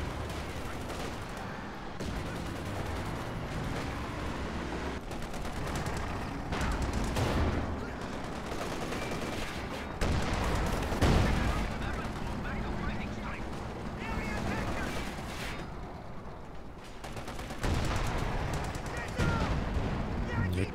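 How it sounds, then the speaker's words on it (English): Tank cannon shots and gunfire in a Company of Heroes 2 match: a dense, continuous battle din with scattered booms and crackling small-arms fire under steady commentary. "Panzer misses the follow-up shot"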